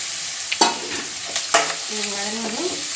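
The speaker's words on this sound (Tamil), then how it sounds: "இப்போ கருவேப்பிலையும் சேர்த்துட்டு இஞ்சி பூண்டு பேஸ்ட்டையும் சேர்த்துக்கலாம்." Curry leaves and ginger garlic paste sauté in a pan for chicken gravy: a close, steady sizzle with a few sharp stirring scrapes and clinks, no voices.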